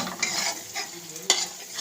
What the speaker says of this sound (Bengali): দিয়ে মিনিটখানেক একটু ভাজবো